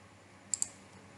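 Two quick, sharp computer mouse clicks land close together near the middle of an otherwise quiet stretch, with only faint room hiss around them.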